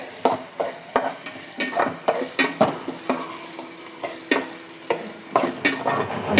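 Green chilies, tomato, tamarind and cumin frying in hot oil for an Andhra-style coriander-mint chutney, a close steady sizzle broken by repeated sharp scrapes and clinks of a spoon stirring against the pan.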